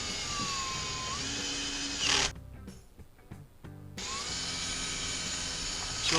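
A power tool drives screws into the cover of a Stihl handheld blower, whirring loudly and steadily up close with a brief drop in the middle before resuming.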